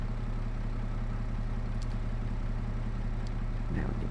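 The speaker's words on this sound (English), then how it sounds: "Let's turn the tractor on, press this one." A farm tractor engine idles steadily from start to finish, a low even rumble with a faint click or two near the end, and no talk over it.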